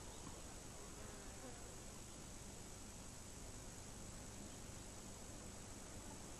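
Bees buzz around a feeder in a faint, steady, continuous drone with a slightly noisy texture, with no distinct individual passes.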